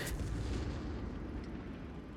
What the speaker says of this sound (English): The retreat nade still went off even though the squad was already